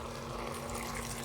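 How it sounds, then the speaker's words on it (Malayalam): Water is poured into a pan of rice and tomato mixture, a brief steady rushing splash, close and even throughout, with no talking. "ഒരു 3/4 പങ്കം വെള്ളം ഒഴിച്ചു കൊടുക്കാം."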